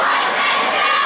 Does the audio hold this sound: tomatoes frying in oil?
no